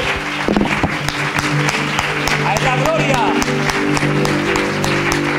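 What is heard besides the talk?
congregation applauding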